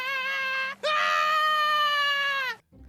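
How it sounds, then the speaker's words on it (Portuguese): Cartoon character from Smiling Friends screaming hysterically: a loud, shrill, sustained scream that breaks briefly, then resumes even more piercing and long before cutting off abruptly. "ele simplesmente começa a gritar de uma forma extremamente escandalosa e descontrolada"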